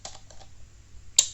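Keystrokes on a computer keyboard while entering a Linux server command: a few soft clustered taps at the start, a pause, then one sharper, louder key press near the end, close and alone with no talk.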